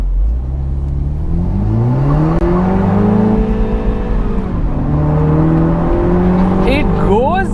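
A car engine revs hard in manual mode, its pitch climbing toward about 6,500 RPM before dropping sharply at a gear change and rising again. The sound is loud, close and continuous, with brief squeaky sounds near the end.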